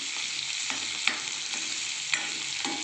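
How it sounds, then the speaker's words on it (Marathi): Potatoes sauté in a pan for batata vada, giving a steady soft sizzle with a few light scrapes of stirring, close by and without any talk. "आता सर्व बटाट्यांना परतून घ्यायचं"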